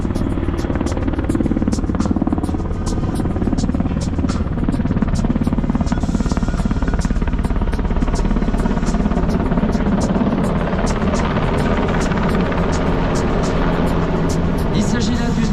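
A next-generation French Air Force helicopter flies at an air show, its rotor producing a loud, steady buzzing thrum with rapid blade chop that persists throughout.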